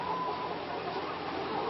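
Organic laying hens on a certified egg farm cluck softly in a steady, dense flock murmur, faint and continuous with no voices over it.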